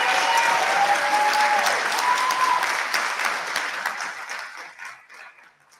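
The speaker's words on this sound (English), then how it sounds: "How about another round of applause for these graduates?" An audience at a business school hooding ceremony gives graduates a loud round of applause that starts strong, then thins out and fades away toward the end.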